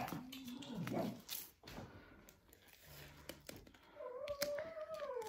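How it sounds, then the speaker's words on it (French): A dog whines and whimpers in faint, wavering tones after spotting a bird, with a rising whimper toward the end amid soft indoor background noise. "c'est mon chien qui a vu un oiseau."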